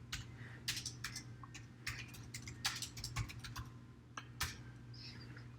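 Quiet, irregular tapping of keys on a computer keyboard while an address is typed, scattered clicks with short pauses, faint and close with a low background hum.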